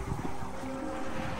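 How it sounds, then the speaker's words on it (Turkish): Wind gusts buffet the microphone outdoors in a continuous low rumble and rush. "Şu an dışarıda biraz rüzgar var"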